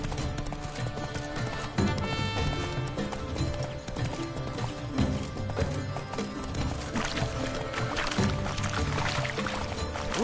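Roach, the horse in The Witcher 3: Wild Hunt's Blood and Wine expansion, trots with a steady clip-clop of hooves under a busy, full game soundscape, with a possible brief whinny.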